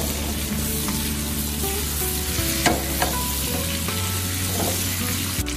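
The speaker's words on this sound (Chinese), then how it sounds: "炒香后再放入切好的黄瓜，再开大火翻炒" Sliced cucumber stir-fried over high heat with ginger, scallion, garlic and chili, a dense close sizzle with spatula scrapes and clinks scattered through, steady and without talking.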